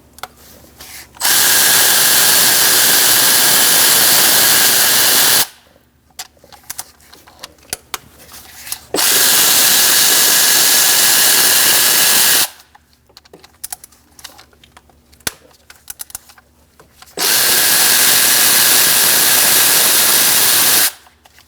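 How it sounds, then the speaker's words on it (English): A power tool with a 10mm socket spins out the valve-cover bolts on a 2006-2011 Chevrolet HHR 2.4L four-cylinder. Three loud, sustained whirring bursts of about four seconds each are separated by quieter clicks and handling noises. "We're going to remove these with a 10mm socket."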